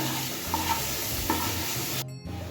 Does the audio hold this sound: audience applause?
no